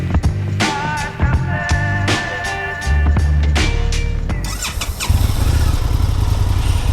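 An Indian FTR S motorcycle revs and pulls away on a street ride, its engine loud and close with bursts of throttle and shifting pitch, ending in a sustained harder run.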